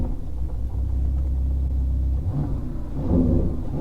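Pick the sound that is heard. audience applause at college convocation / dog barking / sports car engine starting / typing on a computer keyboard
sports car engine starting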